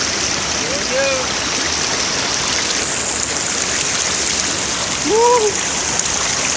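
Water rushes and splashes steadily at a swimming spot with a water slide, a loud continuous wash like a stream, with brief excited voices whooping over it.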